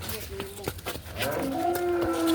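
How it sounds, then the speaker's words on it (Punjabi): A buffalo heifer on a Punjabi village farm lows loudly and close, a drawn-out, rising moo over brief background voices. "ਹਾਂ ਸੋਨੀ ਝੋਟੀ ਆ"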